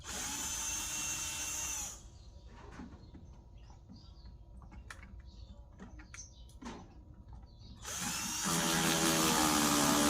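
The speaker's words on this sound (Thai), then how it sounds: "ตรงข้างล่างนะครับก็ผมก็เจาะแล้วนะครับ" A power drill bores holes into a plastic food-waste compost bin, whining loudly and close at the start and again at the end, with quieter clicks and handling noises in the gap between.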